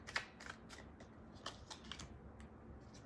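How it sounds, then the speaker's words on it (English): Tarot cards being shuffled by hand, giving soft papery riffles and taps in quick irregular bursts, close and quiet with no talking. "cards keep showing up. I swear I'm shuffling them."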